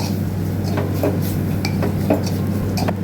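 Chili powder and turmeric powder are roasted and stirred in a pan, making close, repeated scraping and rubbing strokes in an irregular rhythm. The strokes sit over a constant hum and loud background hiss, with no speech.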